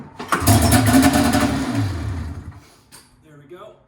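Nitrous oxide powered Polaris RMK snowmobile engine briefly firing off once on full choke, a loud sputtering burst lasting about two seconds before it dies away, followed by faint clicks and a short voice near the end.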